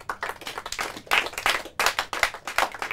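Quiz show audience clapping for a team, a dense burst of hand claps that swells, dips briefly and picks up again, close and loud with no talk over it.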